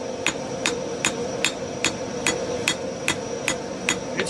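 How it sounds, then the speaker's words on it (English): Steady hammer blows forging backyard crucible steel held by a welded-on handle, about eleven sharp metallic strikes at an even, unhurried rhythm over a constant low hum. "It's forging, but very difficultly so."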